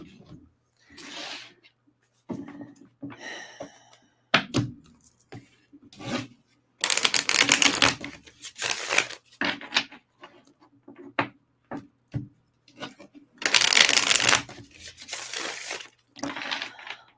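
Tarot cards of a horror-themed deck are handled and shuffled in short bursts of crisp riffling and sliding, separated by brief quiet gaps, close to the microphone.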